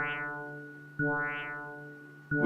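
HG-30 synthesizer tone with slowed envelope attack, two sustained harmonic notes each swelling in a slow sweeping modulation, quiet and alone, with a third note starting at the end.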